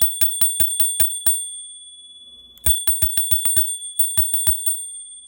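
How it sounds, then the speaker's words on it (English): A small handlebar bell on a Boosted Rev electric scooter is rung in quick bursts of bright, clear dings, three rapid series separated by a short pause, loud and close. "above the brake, it does have a little bell that's right here"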